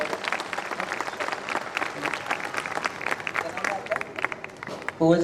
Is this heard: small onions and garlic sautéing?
no